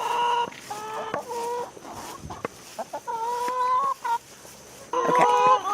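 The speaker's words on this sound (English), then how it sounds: "Good morning, chickie birds." Several chickens cluck and squawk nearby in short bursts, with brief pauses between calls and a louder flurry near the end.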